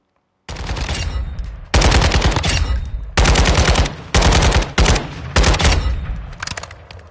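A pistol in Modern Warfare 2 fires several close, loud bursts of rapid shots separated by short pauses, each burst cutting off sharply.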